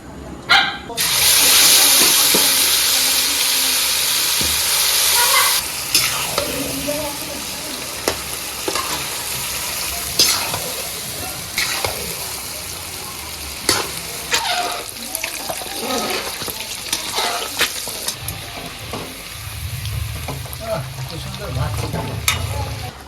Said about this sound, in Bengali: এখন আমরা মটন রান্না করব দিয়ে দেবো সর্ষের তেল